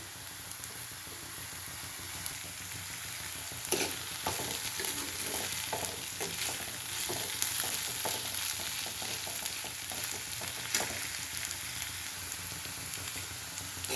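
Ginger garlic paste fries and sizzles in a hot pan with cashews, a steady crackling hiss throughout with bursts of stirring scrapes in the middle.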